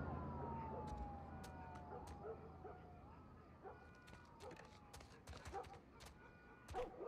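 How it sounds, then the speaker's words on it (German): Police sirens wail faintly in The Last of Us video game, wavering tones drifting over a dense, busy backdrop with scattered sharp clicks and bursts. "jede Menge Sirenen, Polizei ohne Ende"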